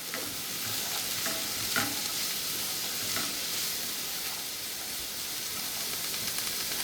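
Vegetables stir-frying in a pan with ginger give a steady, close sizzle and hiss, with a few soft scraping stirs across it and no talk.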